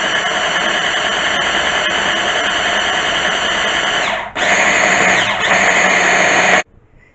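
A food processor blends a cocoa paste for homemade Nutella, its steady motor whine running loud, then briefly dipping and surging back at a higher speed before cutting off.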